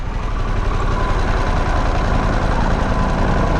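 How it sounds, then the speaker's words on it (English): Harley-Davidson Pan America adventure motorcycle engine idling in neutral, a steady, loud low rumble that holds evenly throughout with no talk over it. "Alright, let's throw our neutral and kill the engine."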